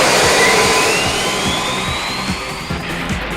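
Goldorak robot spacecraft taking off from a 1979 French cartoon soundtrack, a loud sustained jet roar with a rising whine sweeping upward, steady and close, with no voices over it.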